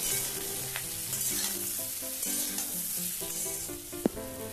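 Moringa drumstick vegetables stir-fry in a pan with salt and turmeric, making an even, close sizzle with stirring. One sharp clack of utensil on pan comes near the end.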